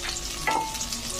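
Four whole dried red chilies hit hot oil with garlic and onion browned for Chittagong kala bhuna, giving a steady broadband sizzle with a brief louder crackle midway, close and continuous, no voices.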